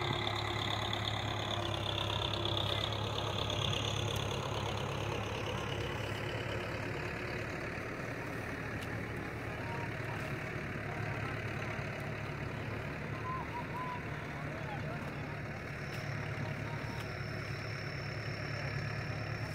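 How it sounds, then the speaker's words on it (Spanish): A tractor engine runs steadily during sugarcane planting in a field, a low, continuous mid-pitched rumble with no letup, fairly faint and heard alone. "calculando la velocidad del tractor"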